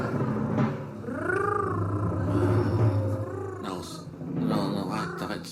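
A person imitates a cat purring with the voice in a French stage comedy, a low rumbling hum lasting several seconds with short breaks, close and fairly loud.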